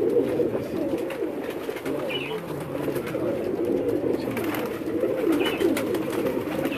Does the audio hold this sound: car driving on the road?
no